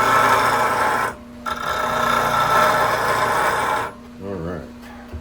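A roughing gouge is ground to sharpen it: a steady, loud abrasive rasp runs for a few seconds, stops briefly, resumes, then cuts off as a voice speaks over quieter background.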